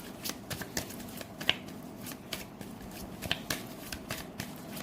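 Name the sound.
tarot cards being shuffled and drawn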